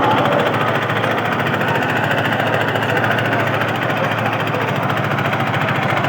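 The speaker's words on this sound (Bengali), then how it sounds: "দুটি নৌকায় কিন্তু রকেটের গতি এগিয়ে যাচ্ছে" Racing boat engines roar on a river during a competitive boat race, a loud, steady, close rattling drone that holds without a break throughout.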